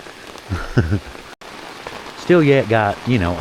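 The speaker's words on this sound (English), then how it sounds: "In theory, if it ever quits raining." Steady rain falls throughout at a mountaintop campsite during a storm, a constant wash of drops under someone talking casually nearby.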